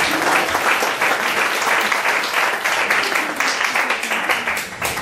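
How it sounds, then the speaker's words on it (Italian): Audience at a live soul and jazz concert claps steadily for about five seconds, a dense, even wash of many hands close by, with no voices standing out. "Vorrei fare un applauso."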